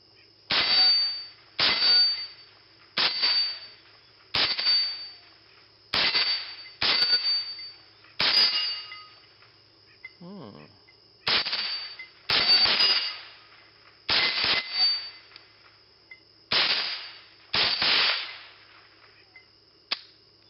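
Repeated .22 rifle shots ringing off steel targets, each sharp crack followed by a bright metallic clang, about a dozen evenly spaced hits at fairly close range with no talking.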